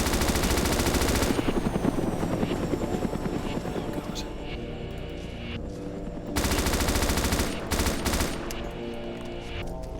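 Sustained rapid automatic fire from an M249 machine gun in the Arma 2 DayZ mod, loud and continuous under a heavy helicopter rotor drone.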